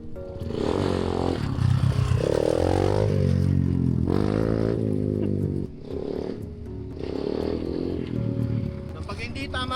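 An off-road motorcycle engine revs loud and close, its pitch climbing and falling in repeated surges across the whole stretch with a brief dip midway.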